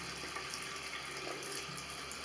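Water running from a tap into a sink, a constant close rushing flow with no breaks and no talk.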